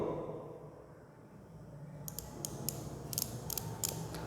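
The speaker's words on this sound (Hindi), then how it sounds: "ये आपको क्लिकिंग साउंड सुनाई दे रहा है" The ratchet of a screw gauge clicks as the instrument is tightened onto a coin, producing a series of sharp, rapid clicks over a steady background hiss in a lab setting.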